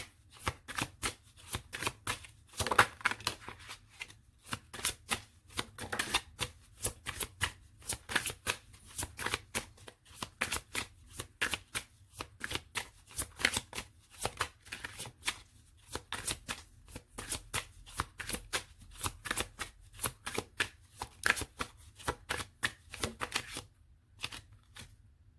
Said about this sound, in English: So I'm going to pull out more cards